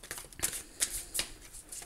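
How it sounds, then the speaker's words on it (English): A tarot card deck is shuffled by hand in quick, crisp riffling bursts at close range, repeating a few times. "Now we've got this deck as well, so I'm shuffling here."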